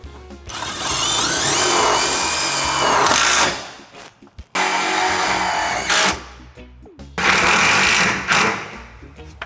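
Cordless drill driving self-tapping screws into the sheet-metal body of a Mercedes Sprinter van while fitting side steps, loud close whining bursts of about three seconds each, three runs separated by short pauses and clicks.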